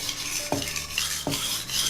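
A knife blade scrapes across a wet whetstone in two distinct strokes, each a short gritty slide, close and clear with no talking.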